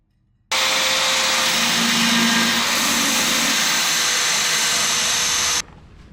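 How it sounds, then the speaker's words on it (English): A belt sander grinds a rusty Datsun front frame's steel, a loud, steady abrasive whine that starts abruptly, holds for about five seconds, then cuts off. "we'll take the belt sander and kind of go up to that line"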